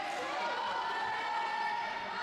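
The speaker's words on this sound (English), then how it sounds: "Olay chants coming from the crowd." Crowd chanting "Olé" at a futsal semifinal between Ole Futsal Club and Lansing City in Lansing, a steady sustained roar of many voices in a sung, drawn-out tone, loud and continuous.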